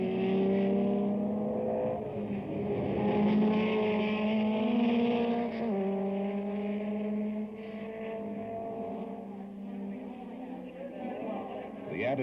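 1971 Can-Am race cars reach about 170 mph, their engines whining and shifting pitch over several sustained stretches, heard under someone narrating throughout.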